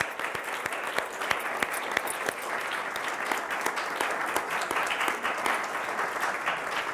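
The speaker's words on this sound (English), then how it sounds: "I hope you will all give them a big round of applause" Sustained applause from a lecture audience at Stanford University, dense steady clapping at an even loudness throughout with no talking over it.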